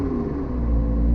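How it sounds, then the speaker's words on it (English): A McLaren P1 supercar in sport mode gives a deep, steady low engine rumble that swells slightly toward the end, heard close and loud with no voices. "I'm gonna rev it once or twice."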